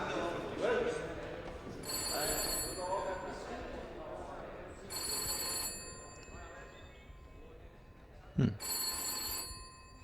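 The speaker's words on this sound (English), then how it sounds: "But why is the phone ringing?" A telephone ringing within a song, bursts of bright electronic ringing repeating at intervals over the music, with a brief sharp swoop near the end.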